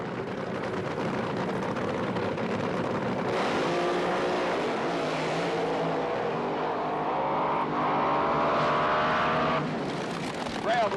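A 1978 NHRA Gatornationals drag racer makes a solo run, its engine roaring loud and steady before cutting off early, with crowd and broadcast ambience under the continuous howl.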